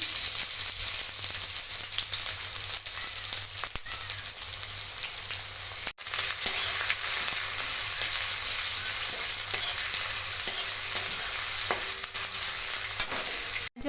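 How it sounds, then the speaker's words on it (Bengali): Chopped onion sizzles in hot oil with cardamom, cinnamon and sugar, a continuous loud crackling fry lasting the whole stretch, broken by a brief stir or pan knock midway. "এবার আমি দিয়ে দিচ্ছি পেঁয়াজ এখানে আমি একটা বড় সাইজের পেঁয়াজ কেটে নিয়েছি"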